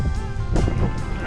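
Wind buffets a microphone while canoeing across Canada on shallow water against a current, a steady broadband rush with gusty swells and no speech.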